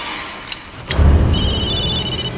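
A cell phone rings in a scene from the movie Scream 3, giving repeated electronic chirping tones over a low rumble after a couple of short clicks, fairly loud and close, with no one talking.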